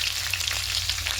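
Potato pieces sizzle and crackle in hot oil in a pan, a dense, steady frying hiss filling the short moment with no voices.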